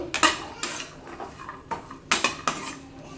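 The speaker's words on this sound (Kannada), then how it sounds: "ಸಣ್ಣ ಉರಿಯಲ್ಲಿ ಕಂದು ಬಣ್ಣಕ್ಕೆ ಬರೋ ಥರ ಹುರ್ಕೋಬೇಕು" Sweet corn kernels being stirred and roasted in a pan over a low gas flame: a metal spatula clinks and scrapes against the pan in irregular bursts, close and moderately loud, with no talking.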